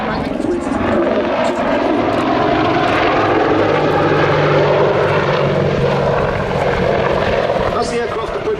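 An Apache helicopter flying a display routine at Duxford air festival, a loud continuous rotor and engine roar with steady pulsing beneath, holding strong throughout with a voice talking over it.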